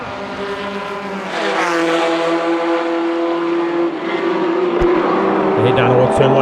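Formula Vee race cars lap a track with a buzzing, rising engine note as a car accelerates out of a chicane, loud and close, with a commentator talking over it.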